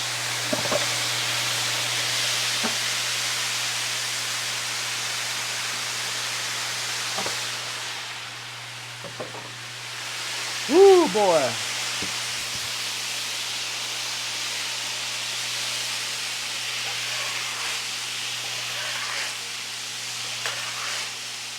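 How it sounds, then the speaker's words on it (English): A broad, steady hiss of steam and sizzling as water is poured on a hot grill to clean it, continuing throughout, with a low hum underneath and a brief exclaiming voice partway through. "one of the tricks to getting all the crud off your grill is just to pour water on it"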